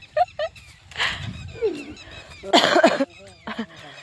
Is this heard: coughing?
yes